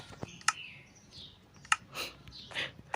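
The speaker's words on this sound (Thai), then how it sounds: "นั่นเป็นเสียงของพวกสเกเลตันเมื่อกี้" Sharp clicks and brief chirpy bursts of Minecraft skeletons scattered over a few seconds, with faint rattling clatter at moderate loudness and no talking.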